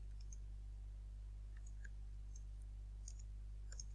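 Typing on a computer keyboard while entering a line of GW-BASIC code: sparse, faint clicks of individual keys scattered over a loud, steady low hum, with no talking.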